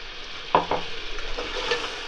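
Fresh ground paste of ginger, garlic, onion and coriander leaves frying in a pan, with a soft background sizzle broken by a few quick stirring scrapes near the start and middle.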